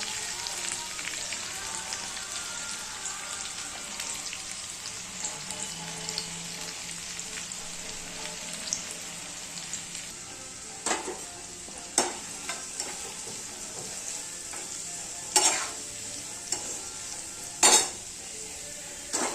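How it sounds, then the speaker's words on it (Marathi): Onions fry toward brown in a pan, giving a steady, rain-like sizzle with occasional stirring scrapes and knocks that grow louder toward the end. The sound is close and moderately quiet, and no one speaks. "आता हा कांदा चांगला ब्राऊन कलर येईपर्यंत भाजायचा आहे"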